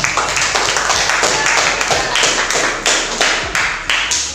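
Classroom of students clapping for a classmate's artwork presentation, a dense burst of many hands in a small room, fairly loud and close, with uneven claps tapering off.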